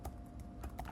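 Quiet typing on a computer keyboard, a short run of soft, irregular key taps close by with no talking.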